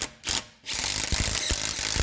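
An impact gun tightening lug nuts on a 2012 Subaru Impreza wheel during a front brake job, heard as a loud close whirring burst, a short pause, then a longer sustained rattling hammer.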